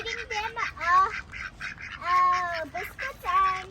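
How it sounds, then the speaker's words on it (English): Hungry ducks being fed biscuits quack loudly and repeatedly in short nasal bursts close by, with a person's voice mixed in among the calls. "Oh my God, these ducks are so hungry,"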